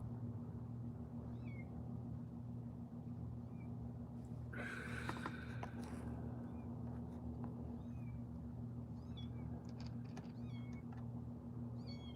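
Cats meowing inside a house attic, a few scattered, faint chirpy meows over a steady low hum, with a louder burst of rustling and movement partway through.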